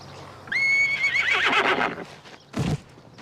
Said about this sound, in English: Wait, you bought a horse?